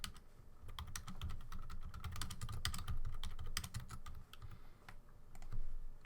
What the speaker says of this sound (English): Caught red-handed again, typing in the chat.